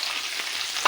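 Onions and green chilies frying in hot oil in a pan make a steady close sizzle, with a brief sharper crackle at the end and no talking.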